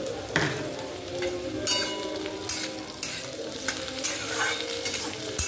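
Onion paste frying in a pan over a high gas flame, starting to scorch: a steady, fairly loud sizzle with bursts of stirring and scraping throughout, no voices.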